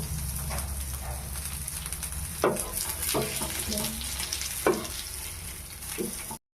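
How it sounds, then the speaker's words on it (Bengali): Steady sizzling of kulekhara greens coated in rice flour frying in hot oil, with a few sharp clinks and scrapes of a utensil turning them in the pan. "এভাবে ইপাশ উপাশ ঘুরিয়ে ভেজে নিতে হবে।"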